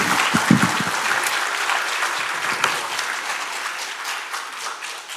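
An audience applauds after a lecture at a political party event, a sustained crowd of clapping hands that opens strong and gradually thins out over several seconds.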